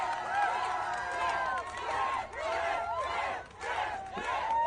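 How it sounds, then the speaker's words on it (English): A crowd cheers a buyer of an Apple Vision Pro headset, with loud, close whoops and high excited shouts rising and falling throughout. "everyone clapping and congratulating him"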